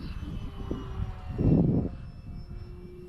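Small Trekker RC model airplane flying overhead, a faint buzzing motor drone that swells briefly louder as it passes near, then fades back into light background noise.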